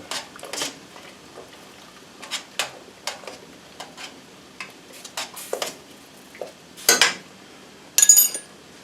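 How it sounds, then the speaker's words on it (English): Homemade noodles stirred in a pot, with a spoon clinking and scraping against the metal in irregular taps and a few louder knocks near the end, fairly close and with no talk. "Give these a little stir."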